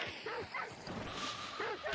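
Several dogs yip and bark in short repeated bursts inside a hunting video game, set against a busy, noisy game soundscape.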